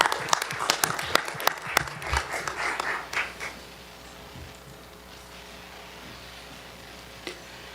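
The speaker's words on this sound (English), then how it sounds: "Can I give them a round of applause?" An audience at a board of education meeting claps in a burst of applause for about three seconds, then it dies away into quiet room tone.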